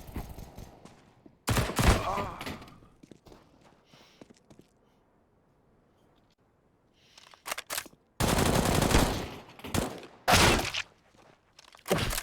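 P250 pistol fire in a Counter-Strike match on the Dust2 map, an early burst of shots followed by a lull, then louder clustered volleys of gunfire near the end amid game sounds.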